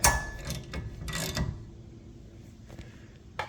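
A bolt is tightened on an electric bike rack during assembly, giving a few close metallic ratcheting clicks that fade into quieter handling noise.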